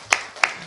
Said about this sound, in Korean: 우리 박수 한번 칩시다.